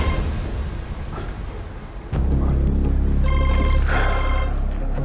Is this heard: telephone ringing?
yes